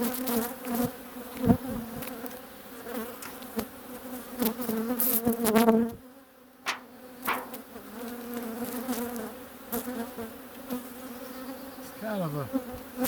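Honey bees buzz steadily around hives during a beekeeping check, a dense droning hum with passing individual bees and a few soft knocks and handling sounds close by.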